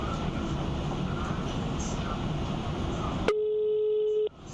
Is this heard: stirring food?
no